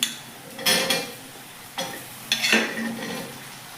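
Cut radish and potato drop into a frying pan over spices and are stirred, giving a few scraping, clattering bursts of spatula on metal over a low background sizzle, close and without speech.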